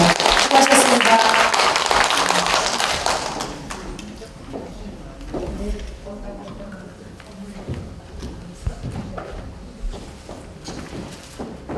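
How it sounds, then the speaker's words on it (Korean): A lecture audience at the 9th World Korean Women's Conference in the National Assembly conference hall breaks into loud, dense applause that fades after a few seconds into scattered claps, shuffling and soft thumps. "다시 한번 손인주 박사님께 감사의 박수 올립니다."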